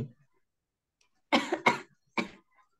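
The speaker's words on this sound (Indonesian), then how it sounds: "Tuh kan batuk, iya." Three sharp coughs in quick succession, close and loud, following a brief murmur and then quiet.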